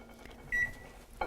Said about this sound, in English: we're going to take this and pop it in the microwave